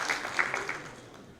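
Soft, fairly distant applause from an audience at a kavi sammelan poetry and music evening in the PHD Chamber, fading gradually with no voices over it.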